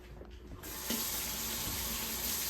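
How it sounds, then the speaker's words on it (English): Water from a kitchen sink tap running steadily for handwashing, starting after a faint clink and continuing as a loud close gush. "we're going to wash our hands first"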